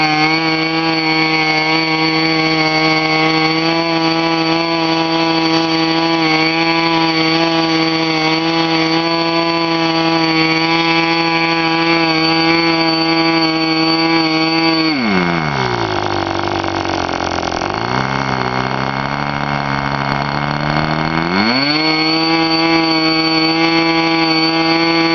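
A K&B Fuji .05 model aero engine running with a propeller, a loud, steady buzzing drone that drops to a low idle midway and then rises smoothly back to full speed.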